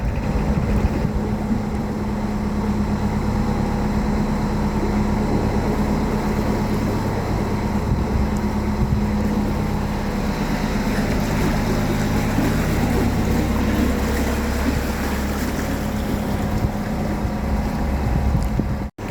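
A narrowboat motoring along a canal, its engine droning in a low, steady throb for the whole stretch with wind buffeting the microphone; no one speaks.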